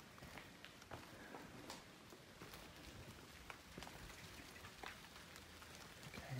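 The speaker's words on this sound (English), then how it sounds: "Oh, this rain's really coming down." Heavy rain pours down steadily outside the derelict Denbigh Asylum, a dense continuous patter of drops striking surfaces, with scattered sharper splashes and no voices.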